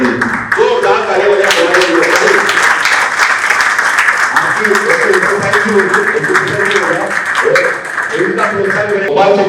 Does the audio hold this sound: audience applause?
yes